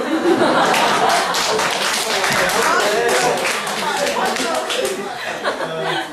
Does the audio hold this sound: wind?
no